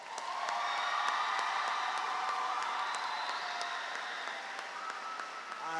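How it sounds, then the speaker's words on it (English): A commencement crowd applauds graduates with a sustained, fairly distant roll of clapping, lifted by a few scattered cheers and whoops, that keeps up evenly for nearly six seconds. "let's give our graduates another round of applause"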